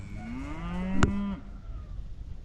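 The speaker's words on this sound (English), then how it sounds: "And there went the cows." Cattle give a single long, low moo that swells near the middle and fades, fairly close and loud over a quiet barn-like background with no talking.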